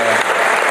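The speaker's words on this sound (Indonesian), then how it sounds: "Wah, tepuk tangan." A short, loud burst of clapping from a church congregation during a Christian sermon, dense and continuous with no voices over it.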